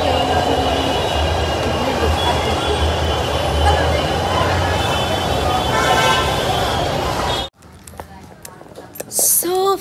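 A crowded Delhi Metro train runs with a loud, steady rolling roar and rail hum, with faint voices underneath, then cuts abruptly to a quieter scene near the end.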